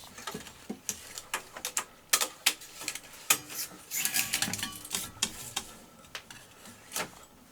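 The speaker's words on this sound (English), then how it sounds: "So let's quickly thread the tape here before we're out of time." An Akai GX-210D reel-to-reel tape recorder being threaded by hand: close, irregular plastic clicks, taps and rustles of tape and reels, with a denser scrabbling burst midway and no talking.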